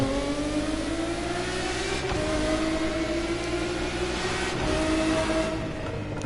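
A loud, close car engine in The Crew Motorfest holds a steady high rev, climbing gently with a couple of brief gear-shift dips and no voices over it.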